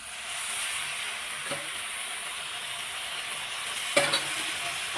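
Spice masala sizzles steadily in oil with curd stirred in while cooking a veg soybean biryani, a continuous close frying hiss with a couple of brief scraping clinks, no voices.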